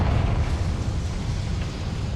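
Confringo fire spell explosion in the video game Hogwarts Legacy: a loud, dense rumbling blast with heavy low boom filling the brief moment, sustained roar without a sharp tail.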